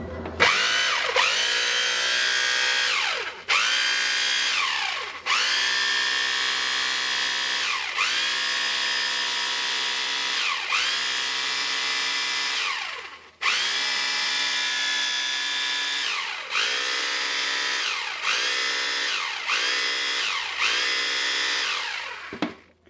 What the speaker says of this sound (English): I want to check the hammering.